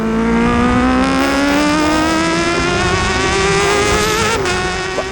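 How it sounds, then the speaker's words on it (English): A 2020 Aprilia RSV4 1100 Factory motorcycle with an open exhaust valve booms loudly and steadily at close range, its engine note climbing gradually over several seconds with no talking. "When the valve in the exhaust opens, that thing booms its way around town"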